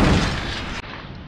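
A heavy cannon boom in the video game Empire: Total War rolls out at once and decays over about a second, then a second quieter blast rumbles briefly.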